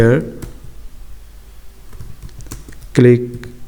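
Computer keyboard typing while writing HTML code for a web design lesson, scattered key clicks running through the middle between bursts of a nearby speaking voice at the start and end.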